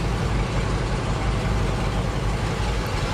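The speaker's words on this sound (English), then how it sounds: "25 tons of high-powered steel is inched up the ramp" A 25-ton tank inches slowly up a trailer ramp, its heavy diesel engine growling in a steady, loud, low rumble without a break.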